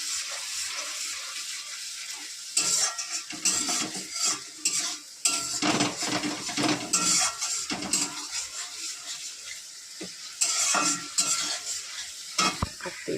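Spice paste sautéing in a pan, a steady sizzle with frequent scraping stirs of a utensil against the metal, close and continuous with bursts of louder frying.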